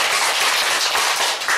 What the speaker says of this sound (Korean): 하나님 앞에 박수 한번 쳐드려요.